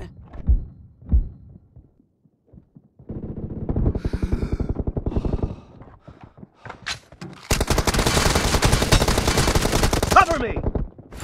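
Gunfire bursts in a multiplayer team-deathmatch shooter game, with scattered single shots early and then long rapid automatic volleys, loud and close, alongside brief thumps.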